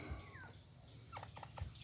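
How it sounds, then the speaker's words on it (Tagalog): Faint turkey gobbles and soft clucking calls from a short distance, a few brief bursts over low background noise. "May dalawang pabo doon."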